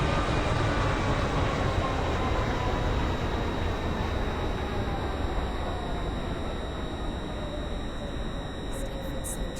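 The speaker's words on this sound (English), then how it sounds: "shortly be arriving at North Shore. Please mind the gap between the train and the platform." An SCR train arriving at North Shore station gives a steady, continuous rail rumble with a faint high whine, running evenly for the whole stretch with no talk over it.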